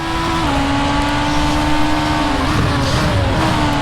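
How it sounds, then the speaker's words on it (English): A ChampCar race car on new soft tyres roars at high revs in sim racing, a loud, steady engine drone with pitch shifts on gear changes, close and continuous, no talking. "With those new softs, listen to that engine roar."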